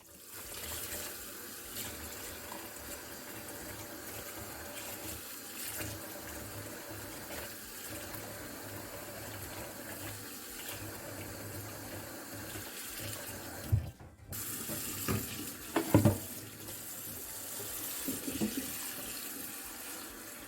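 Steady tap water running into a sink while washing in a home kitchen, a continuous broadband rush for most of the stretch with a few louder splashes and clatters near the end.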